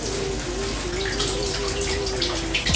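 Shower water running steadily while hair is washed in a bathroom, a continuous close hiss with a faint tonal whine and no voices.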